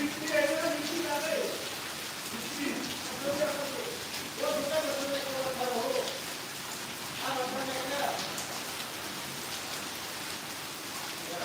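Rain falls steadily in a continuous hiss on surfaces outdoors, moderately near, while people talk over it in intermittent bursts.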